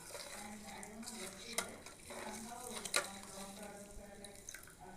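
Carrot paste and salt stirred by spoon into tamarind rasam, giving a soft continuous wet swishing with a couple of sharp clinks against the pot, fairly quiet and close.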